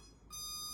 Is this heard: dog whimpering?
no